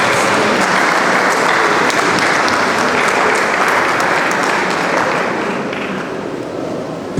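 Sustained applause from an audience at a university cooperative society's annual general meeting, a dense, even roar of many hands clapping that holds steady and fades slightly near the end.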